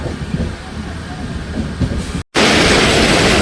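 Continuous rumble and rattle of a passenger train picking up speed between Ambala and Patiala, crossing the Ghaggar river, loud and close, briefly cutting out before returning even louder.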